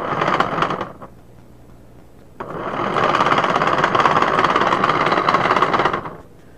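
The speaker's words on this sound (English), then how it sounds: "That's the blower in action." A small homemade lobe blower powered from an alligator-clip start wire runs with a loud, rough, rapid mechanical rattle, a brief first burst, then a longer steady run that stops abruptly.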